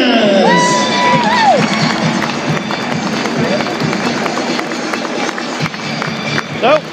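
Crowd at a Thursday night Wigan Warriors versus Huddersfield Giants rugby league match, a fairly loud wash of cheering, whoops and shouts with stadium noise, a whistle-like tone early on, and voices mixed through the crowd.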